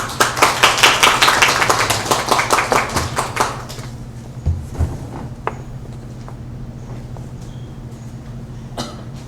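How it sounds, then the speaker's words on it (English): A round of applause for an ambassador at an academic symposium on Korean studies in the Philippines, a loud burst of clapping that quickly fades to scattered claps, a few coughs and faint shuffling. "please give a round of applause for Ambassador Lee"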